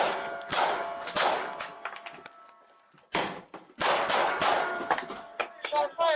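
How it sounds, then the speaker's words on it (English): Several sharp gunshots go off during a police search warrant at a trailer park, loud and close in irregular bursts, with raised voices and commotion around them. "Shots fired."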